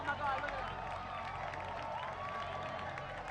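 A field hockey crowd cheers and storms the field at the Hun School after an overtime winner, a faint, distant wash of cheering and commotion running steadily under a commentator's voice.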